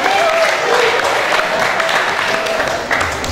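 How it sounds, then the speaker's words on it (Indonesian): A school audience claps steadily in a dense, continuous wash of applause, with a voice faintly audible underneath. "Beri tepuk meriah untuk Kakanda Hari."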